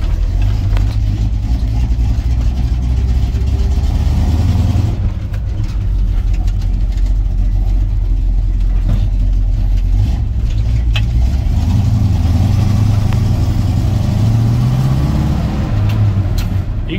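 Engine of a 1956 Chevrolet 3100 pickup, fitted with far more power than stock, running steadily near the low end of its rev range, a loud, deep continuous rumble with slight fluctuations and no talk over it.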